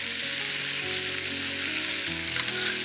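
Tofu sizzles steadily as it fries in a pan, a close, continuous crackle holding at even loudness with a few brief sharper pops near the end.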